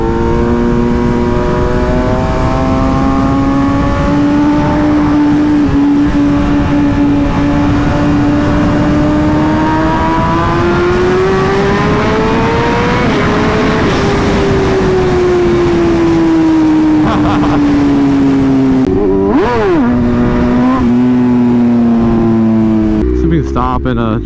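BMW M1000RR superbike engine screaming at speed on a race track, a loud continuous high-revving tone that climbs and dips through gear changes, up close for the whole stretch.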